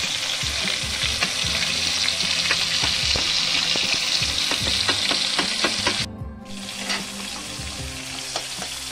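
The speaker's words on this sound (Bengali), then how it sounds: "চিংড়ি মাছটা সুন্দর করে আমি এখানে ফ্রাই করে নিয়েছি" Prawns sizzle in hot oil in a pan for a Bengali prawn malai curry, a loud continuous crackling fry with scraping stirs, briefly cut off then resuming.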